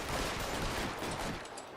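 Rapid volley of gunshots in the 1940s Los Angeles crime video game L.A. Noire, dense overlapping bursts of gunfire over a few seconds, fairly muffled and continuous.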